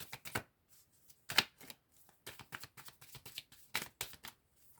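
Oracle cards shuffled by hand during a card reading, a quick run of soft papery riffles and slaps in uneven bursts with short pauses between, close and fairly quiet.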